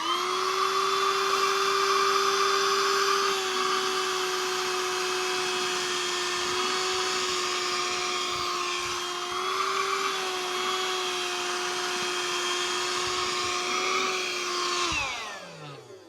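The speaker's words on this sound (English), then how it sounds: "I'm going to spread out some now mixed up dirt of various things, and we're going to use this vacuum to test it." A Hoover Jovis+ handheld vacuum cleaner runs with a steady, close, high-pitched motor whine while sucking up mixed dirt from the floor, then winds down and stops near the end.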